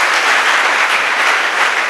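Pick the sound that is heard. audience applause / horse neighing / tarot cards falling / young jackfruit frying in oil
audience applause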